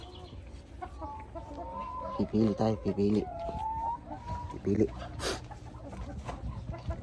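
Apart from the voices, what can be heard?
chickens clucking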